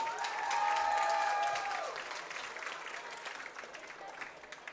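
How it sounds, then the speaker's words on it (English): Crowd applause for a peewee youth football team at a team introduction event, steady clapping with a few cheers, and a sustained tone at the start that fades as the clapping carries on. "Give a big round of applause to your Peewee Wildcats."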